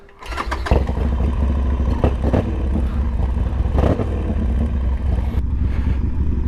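A worn Harley-Davidson Sportster engine runs loud and close during a ride, rumbling steadily after a quick start with brief throttle surges, and no one speaks.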